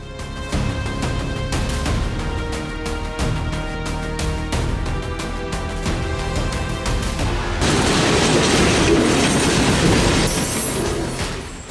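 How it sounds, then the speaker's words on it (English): A train rumbles steadily past with a horn-like tonal drone, then the noise swells louder and rougher as the cars roll by close. "because the train is coming"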